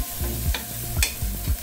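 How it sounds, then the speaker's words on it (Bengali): Chopped tomato frying in hot oil with onion and garlic for beef biryani, stirred in quick scraping strokes about every half second over a continuous close sizzle, no voices. "আমি এই তেলের মধ্যে একটু টমেটো কুচি দিয়ে দিব"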